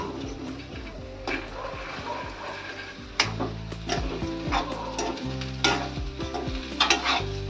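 Sprouted mung beans stirred and sautéed in a pan for a home-style mung bean bhaji, with steady sizzling and frying, a spoon scraping and clinking at close range, and scattered small knocks.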